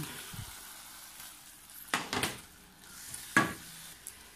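A seasoned mixture sautéing in oil for white tchep, with a faint low sizzle beneath a few sharp utensil scrapes and clinks against the pan, close by and without talk.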